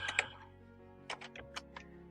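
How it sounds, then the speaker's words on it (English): A few quick, close key taps on a computer keyboard, a short burst after a brief pause, crisp and faint against a quiet room with no talking. "I just type in Venus"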